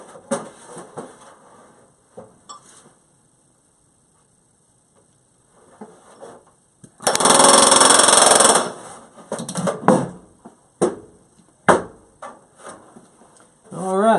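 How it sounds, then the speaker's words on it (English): Rivets are hammered into an aircraft's left flap. Sharp metallic strikes come irregularly, some faint and some louder, with one longer noisy burst in the middle. "every successive hammer blow has a different pitch"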